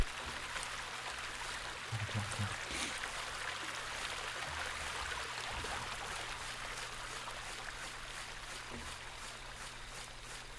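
A waterfall in the horror video game Rake, heard as a steady, moderately quiet rush of falling water that continues evenly throughout with no talking.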